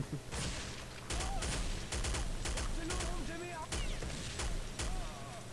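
Automatic gunfire from a machine gun in Counter-Strike: Condition Zero, sounding in repeated sharp bursts through the clip amid other game sounds, with a voice talking over the shooting.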